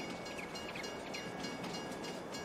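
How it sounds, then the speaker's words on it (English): A train passes in the Farming Simulator 22 game on a custom German map, a steady broad rumble with faint high whistling tones holding level throughout, close and continuous with no talk. "Let's just stand back a minute while the train passes."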